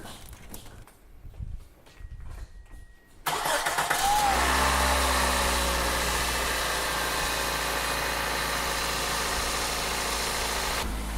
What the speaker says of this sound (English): We're actually gonna fire it up.